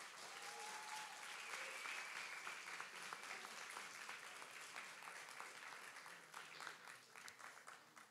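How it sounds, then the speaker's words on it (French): An audience at a student eloquence contest final applauds its four finalists, a continuous crackle of many hands clapping at moderate distance that holds steady and only eases slightly toward the end. "je voudrais un tonnerre d'applaudissements pour nos 4 finalistes"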